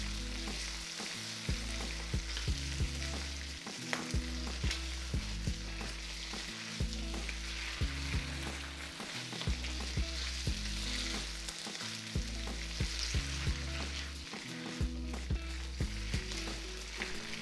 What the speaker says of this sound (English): Push the meat slices to one side of the wok, dropping Doubanjiang